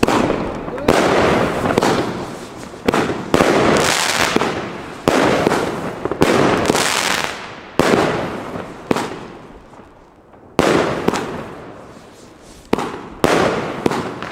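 A consumer firework cake called The Gambler fires a rapid series of loud, close cracking shots, each bang trailing off into crackle, with short pauses between volleys.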